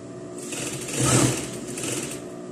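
A sewing machine stitches dress fabric pieces together in one short, quiet whirring run that swells and then eases off, with no talk.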